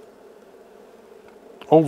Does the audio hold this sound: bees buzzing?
yes